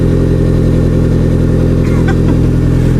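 A car fitted with a Borla S-Type exhaust rumbles loudly and close by, a deep steady throb with slight revving.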